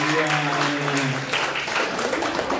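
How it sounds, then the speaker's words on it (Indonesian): Audience applause at a school farewell ceremony, a steady wash of clapping from the crowd throughout, with a voice speaking over it in the first half. "Tepuk tangan dulu dong Bapak Ibu ya."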